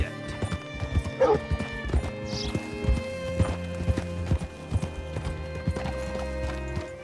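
Horse hooves clip-clop in Red Dead Redemption 2, with irregular hoof strikes near and fairly quiet, plus a brief whinny early on over faint game background sounds.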